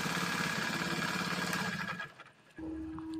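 A CD-70 motorcycle engine, being checked for a faulty oil pump, runs loudly with a steady rumbling idle, dips briefly near the end as if cut, then picks up again with a constant tone.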